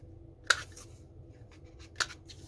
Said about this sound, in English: So let me trim that. I think I will round the corners